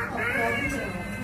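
A child makes a drawn-out, whiny cat-like meow, a high wavering vocal sound close to the microphone, imitating a cat.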